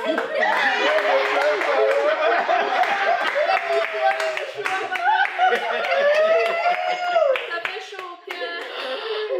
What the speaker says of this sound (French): Pardon, applaudissez.